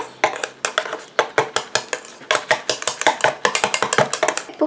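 A hair conditioner preparation with silk proteins is mixed in a container, producing a rapid series of loud, close clicking and tapping strokes of a utensil against the vessel, steady and rhythmic, with no talking.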